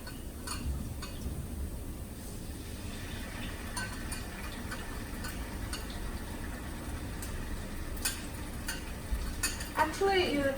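Meat frying in already heated oil during a home cooking lesson, a steady soft sizzle with occasional stirring clinks and scrapes, fairly quiet throughout.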